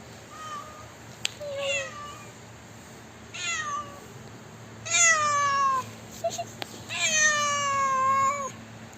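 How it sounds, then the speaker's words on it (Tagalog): A cat meows several times outdoors, drawn-out rising and falling calls spaced a few seconds apart, fairly close and clear over a low steady background hum. "Nabutan natin yung pusa"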